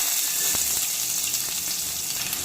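Onions and dried red chillies frying in a pan, giving a dense, steady, close-up sizzle that carries on evenly throughout, with a few faint stirring taps and no voices.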